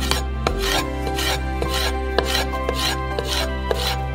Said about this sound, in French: Et on les coupe en petites bandes.